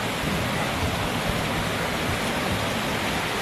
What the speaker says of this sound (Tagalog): Pamahawan sa maulan na umaga.